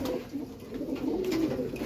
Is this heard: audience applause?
no